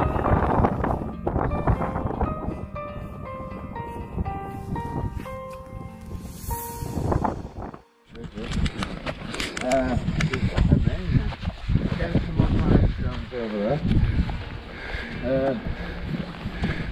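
Gusty wind buffeting the microphone on the gritstone outcrop of Bamford Edge, a steady loud roar that dips briefly mid-way, with people talking throughout.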